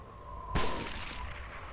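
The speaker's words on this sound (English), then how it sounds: "G36 shot." A single G36 rifle gunshot in DayZ cracks sharply about half a second in, followed by a long decaying echo over a low steady background hum.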